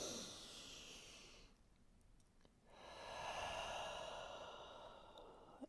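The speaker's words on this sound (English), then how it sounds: "let's take 2 more nice big inhales and exhales" Slow, deep yoga breaths: a long airy exhale, a pause, then a fuller inhale-exhale swell, close and fairly soft, with no talking.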